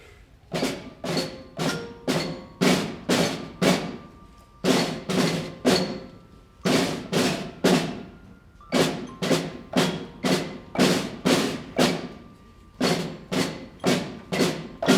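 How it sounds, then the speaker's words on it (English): A sixth-grade middle school band's percussion section plays at a winter concert, striking drums with sticks in loud, regular rhythmic bursts of hits that repeat in steady patterns with short pauses between phrases. "They take sticks and they hit things with them, and hopefully music comes out is usually our goal."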